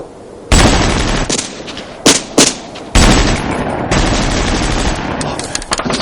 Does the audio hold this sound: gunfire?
yes